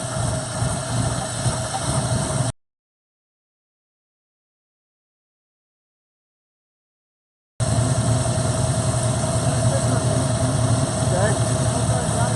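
A car engine fitted with Holley Sniper EFI runs with a steady, close idle-like drone, cut by a stretch of total silence before resuming.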